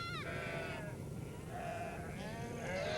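Several wavering sheep bleats rise and fall over a busy outdoor background in Mongolia, with a few animals calling one after another.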